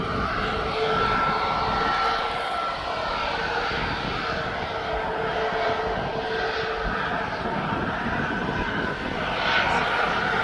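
A TUI jet aircraft at East Midlands Airport gives off a steady, broad engine roar and whine that holds constant at moderate distance throughout, with faint talk barely audible beneath it.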